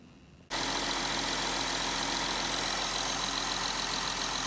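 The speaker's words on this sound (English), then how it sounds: "then we'll start the engine up, start flushing it through." VW Amarok 3.0 TDI diesel pickup, in limp mode with a blocked DPF during cleaning, starts abruptly after a short quiet moment and settles into a loud, steady, close idle.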